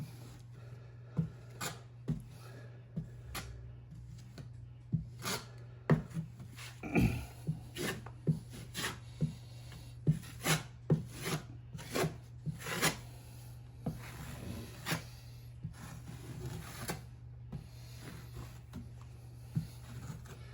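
A drywall knife flattens mud over a sheetrock patch during the first coat. Repeated short scraping strokes come in an uneven rhythm, close and fairly loud over a constant low hum.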